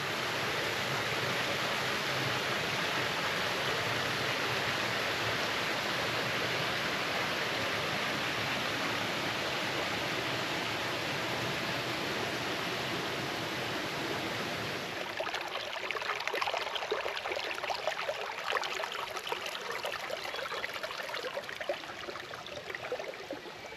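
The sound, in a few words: running water of a stream near waterfalls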